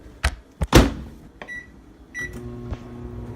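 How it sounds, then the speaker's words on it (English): Microwave oven heating Peeps marshmallows, starting with a few sharp clunks of the door and buttons, then a steady low hum with short beeps and a faint click near the end. "I'm going to throw a few of mine in the microwave right now."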